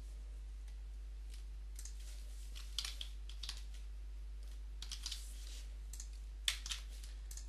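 Typing on a computer keyboard, quiet scattered key clicks coming in short bursts over a faint steady hum, close and without speech.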